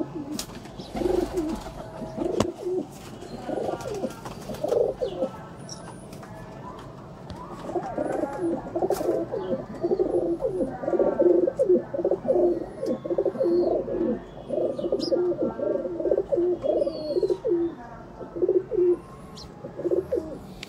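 Male rooftop pigeons cooing repeatedly in soft rhythmic bursts, close and fairly loud, with wing flutters and a few faint chirps around them.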